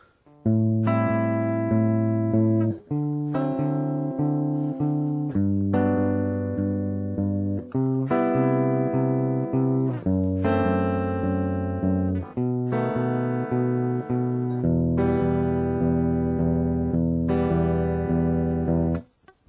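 Low guitar root notes, including B, plucked with the thumb, one per beat in a slow, even pulse, each ringing fully into the next.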